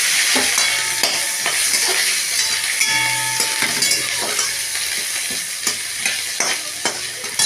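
Ginger and tomato frying in hot mustard oil with cumin, bay leaf and dried chilli, a loud continuous sizzle under repeated scraping stirs of a spoon against the pan, no talking.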